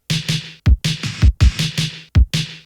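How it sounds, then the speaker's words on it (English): An extra counter snare layered into an FL Studio indie post-punk drum loop, bright snare cracks in quick pairs interleaved with deep kick thumps, a dense, punchy, loud pattern over a short loop. "to finish this beat off, I basically threw in this counter snare"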